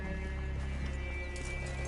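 Horses in the video game Red Dead Redemption 2 clop along in a steady, close, continuous rhythm of hoofbeats over a low ambient bed, with no talk.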